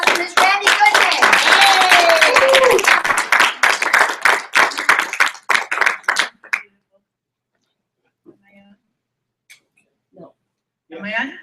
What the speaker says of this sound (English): help me give a round of applause for Miss Randy Goodman